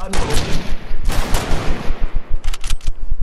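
Shotgun blasts in Fortnite, a quick cluster of loud, close booming shots with crackling tails, several fired in rapid succession over a few seconds with no talk.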